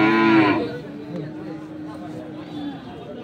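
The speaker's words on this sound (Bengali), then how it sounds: "আপনারা দেখছেন এখানে যে মোটা তাজাকরণের শাহিওয়াল জাতের বাছুর গরুগুলো প্রায় বিক্রয় করা হচ্ছে।" Sahiwal bull calves being fattened for sale at a rural cattle market in Dinajpur, one loud close moo at the start, then someone talking over a fainter lowing and crowd murmur.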